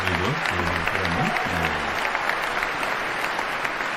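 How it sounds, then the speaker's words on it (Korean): A large crowd gives a standing ovation at a political address by President Trump, a dense, steady wash of applause heard throughout, with a low voice briefly audible underneath at the start. "관중들이 뭐 기립박수를 치는데요"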